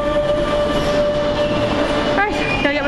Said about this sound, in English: Trains go pretty fast.